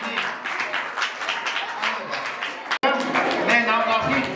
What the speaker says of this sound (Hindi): अच्छी ताली बजाओ जी।